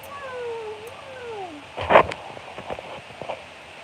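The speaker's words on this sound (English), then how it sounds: "Look at this adventure cat." A cat lets out a long, drawn-out meow, followed by some rustling and soft thumps nearby.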